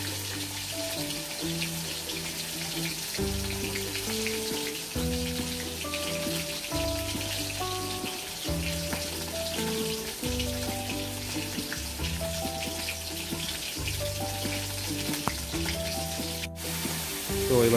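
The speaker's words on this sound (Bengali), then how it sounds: "প্রথমে মাছের মুড়োটা ভেজে নিচ্ছি" A rohu fish head fries in hot oil, producing a steady crackling sizzle like light rain that runs unbroken throughout, moderately loud and close, over a faint repeating low background hum.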